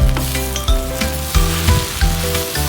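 Chopped leeks fry in kottu on a hot pan, a loud continuous sizzle broken by regular scraping and stirring strokes about every half second, close up and with no talking.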